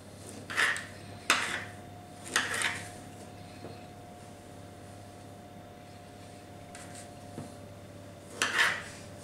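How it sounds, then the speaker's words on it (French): Cherry tomatoes being cut into halves or thirds on a board, several distinct knife chops spaced irregularly, with quiet pauses between them in a quiet kitchen. "des petites tomates cerises, vous les coupez soit en 2 ou en 3"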